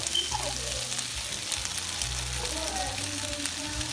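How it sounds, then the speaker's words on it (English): Flour sauce bubbles and sizzles in a pot on the stove as it is stirred, a soft continuous frying hiss with faint scraping, quiet and steady. "make sure you go ahead and get that in there and stir it around so that it can absorb"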